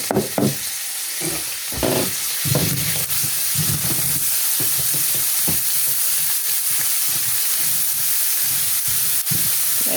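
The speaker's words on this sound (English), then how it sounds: "we're going to deglaze with just a little bit of sake" Onions deglazed with sake in a hot pan give a loud, continuous hiss and sizzle close up, with bursts of crackling and stirring scrapes over the steady hiss, and no talking.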